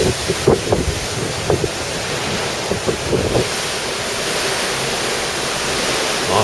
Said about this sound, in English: you're not allowed to swim because the waves are so rough